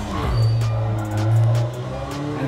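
A Honda Civic Type-R in a racing video game pulls hard around the Top Gear test track, its engine note droning steadily and rising slightly, with faint tire noise and no talk.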